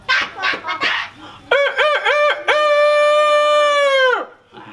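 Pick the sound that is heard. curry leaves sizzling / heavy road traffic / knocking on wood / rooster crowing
rooster crowing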